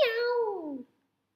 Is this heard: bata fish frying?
no